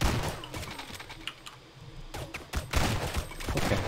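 Video-game shotgun blasts boom in a loose, uneven string of close, punchy shots with short gaps between them. Clicky key-like taps sit underneath.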